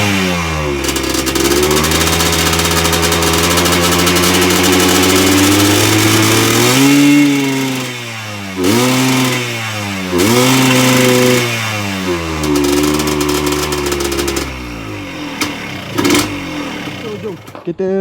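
An Enduro 125 motorcycle fitted with a Yamaha RXZ two-stroke engine block revs hard and loud up close, climbing through repeated rising pulls with brief drops between, then easing off near the end.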